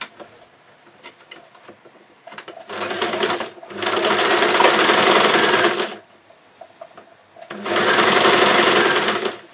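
A sewing machine stitches the shoulder seam of a puppet arm, running in three steady rapid bursts with quiet pauses between them.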